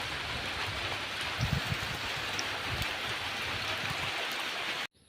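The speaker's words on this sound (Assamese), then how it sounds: "বৰষুণ দিয়ে আছে" Steady rain falls outdoors near a house, a continuous even hiss of drops with a few heavier patters, until the sound cuts off abruptly near the end.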